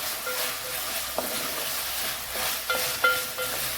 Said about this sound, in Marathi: मिक्स करून घ्यायचं पुन्हा छान असं